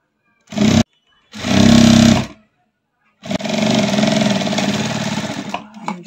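Sewing machine stitching a folded neck piece onto a blouse: two short whirring runs, then a longer steady stitching burst of about three seconds, close and clear with no talk.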